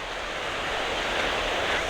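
Cold Pacific Ocean surf on a New Zealand beach gives a steady broadband wash of breaking waves, continuous and fairly loud, with some wind rumble on the microphone.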